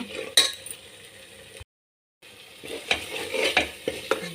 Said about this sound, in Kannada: ಹಸಿ ವಾಸನೆ ಹೋಗೋವರೆಗೂ ಫ್ರೈ ಮಾಡೋಣ